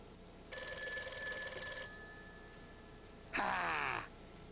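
A telephone rings twice at moderate loudness in a quiet room, a long harmonic trill followed after a pause by a shorter, harsher burst.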